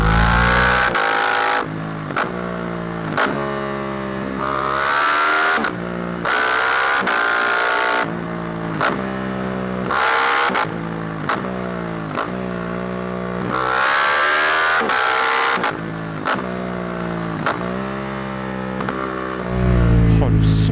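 A Suzuki GSX-8R motorcycle engine accelerates hard through the gears in repeated rising revving sweeps, each climb cut short by a shift, loud and close over about twenty seconds.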